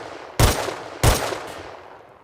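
Two loud semi-automatic SKS rifle shots in the console version of the game Rust, roughly half a second apart, each a sharp crack with a decaying tail, followed by a fainter third report.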